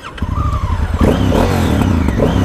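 A 2018 Honda CRF1000L Africa Twin Adventure Sports motorcycle engine with a 270-degree crank revs loudly up close, climbing in pitch with a deep, throaty roar that rises and falls through repeated throttle blips.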